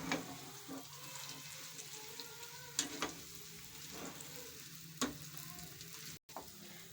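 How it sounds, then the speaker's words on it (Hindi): Green chillies and onion fry and sizzle in a pan while being stirred, a soft continuous crackle with a few louder scraping strokes of the spoon, close and with no voices. "हम सब चीज़ों को अच्छे तरीके से मिक्स कर देते हैं"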